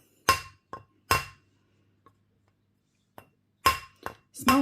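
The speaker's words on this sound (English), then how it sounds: "tapping down the edge flat to the mandrel" A hammer taps a metal washer ring against a mandrel, giving several bright, ringing metallic strikes close to the microphone, spaced irregularly with short pauses between groups of blows.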